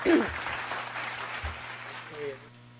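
Applause sound effect played during a podcast episode, a short burst of clapping heard under voices and a steady hum, cutting off abruptly near the end.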